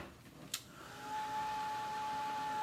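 A handheld dryer blows steadily on freshly inked stencil work for a chalk-couture shirt, starting after a brief click and settling into a continuous close, whirring hum to the end.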